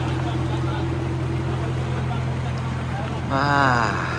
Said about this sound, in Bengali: এখন লঞ্চে উঠেছি লঞ্চ রওনা দিচ্ছে সোজা দুবলার চরের উদ্দেশ্যে